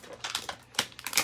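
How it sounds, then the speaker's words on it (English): A stamp set is pulled from its plastic packaging, giving several crinkling, tapping plastic bursts with short pauses, close and fairly loud. "let me just get that out of the package here."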